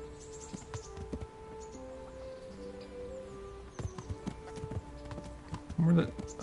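Horse hooves clop in the medieval video game Kingdom Come: Deliverance, a few distinct footfalls over game ambience and music tones, with a person talking over part of it.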